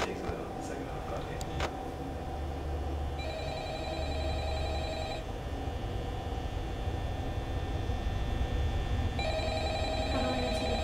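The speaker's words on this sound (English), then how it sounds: "How do I answer the phone?" A telephone rings in the Five Nights at Freddy's video game, two bursts of electronic ringing over a steady hum and background noise.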